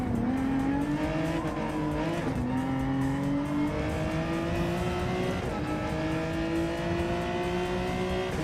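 A race car in a racing video game brakes hard with squealing tires and a rising, steady engine whine that carries loud and continuous throughout.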